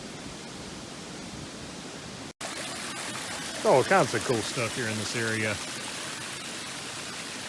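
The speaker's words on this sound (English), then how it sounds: "A little waterfall up here too." Steady broadband rush of a small waterfall on a hiking trail among slippery rocks, continuous and fairly close, with someone talking over it partway through.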